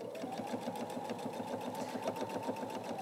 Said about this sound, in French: On est sur une couture droite, donc là, je vais un petit peu vite.